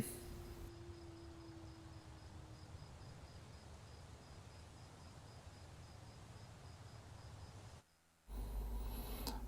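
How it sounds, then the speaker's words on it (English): Quiet outdoor night ambience in the video game Mindfall, faint soft wind with a thin steady cricket chirping pattern, low and continuous, then a brief dropout followed by a louder noise burst at the very end. "the background ambience of the wind and the crickets as the player navigates around the outside of our environment"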